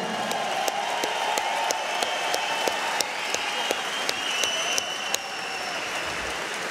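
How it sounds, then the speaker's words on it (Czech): A crowd at an MMA event applauds a UFC champion in the arena, a steady wash of clapping and crowd noise with sharp percussive hits from the cage area recurring throughout. "Potlesk pro něj."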